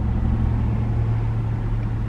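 Steady rumble of traffic beside a busy street, cars passing close by in a continuous low drone with no talking.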